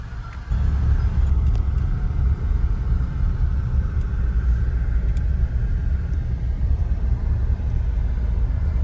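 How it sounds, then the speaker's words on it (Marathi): Car driving along a road on a trip to a beach, a steady low rumble of engine and tyre noise from inside the vehicle, constant and fairly loud throughout with no voices. "अरे पाटील शेट मस्त ड्रायव्हिंग करतात"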